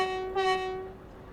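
Train horn sounded in the Train Sim World 2 game on Xbox Series X, a single steady harmonic blast lasting just over a second with a brief louder swell near the start, heard alone with no talk.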